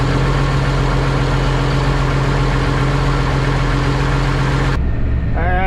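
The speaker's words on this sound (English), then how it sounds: "Alright, tractor's warmed up, headed to the field." An old farm tractor engine idles after a start on a very cold morning, a steady loud low rumble with a constant beat that cuts off abruptly near the end, leaving a quieter, different background.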